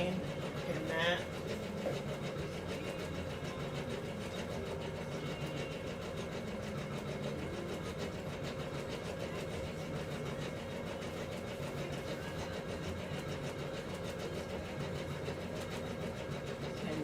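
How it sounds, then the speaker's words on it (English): An embroidery machine stitching a design of a figure's face and hands runs with a steady mechanical hum and rapid stitching rhythm throughout, fairly faint and constant with no pauses. "It's stitching her face and her hands out now on the embroidery machine."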